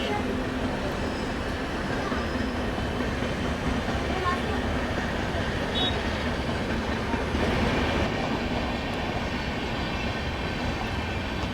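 Pune–Nanded Express passing at a crossing near Purna Junction, a continuous close rumble and rhythmic clatter of carriages rolling by, with faint voices mixed into the noise.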